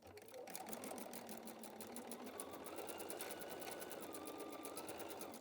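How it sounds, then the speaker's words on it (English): A sewing machine stitches quilt fabric pieces together in one steady, continuous run, its rapid needle chatter sustained at an even level throughout with no talking. "I'm going to go sew this from here to here."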